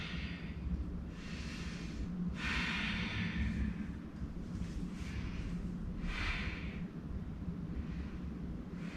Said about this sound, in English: Let's just breathe together for 5 more breaths.